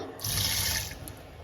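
Rice rinsed by hand under a running kitchen tap, water streaming steadily into a sink for about a second before tapering off, close and fairly loud with no talking.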